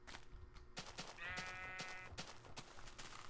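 Sheep bleating in Minecraft, one clear wavering bleat in the middle of the clip over a steady game background with scattered clicks and thumps.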